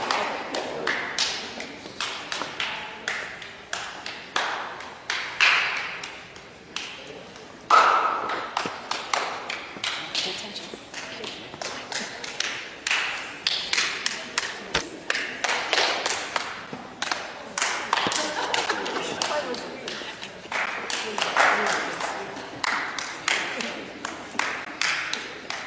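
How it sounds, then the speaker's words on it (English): In a classroom game, single claps pass from one person to the next, producing a long chain of separate, sharp hand claps at uneven intervals, some quick and some hesitant, with faint voices in between. "when the person right before you claps, then you clap"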